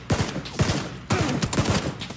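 Loud bursts of rapid gunfire in PUBG come in several separate volleys, each a quick rattle of shots.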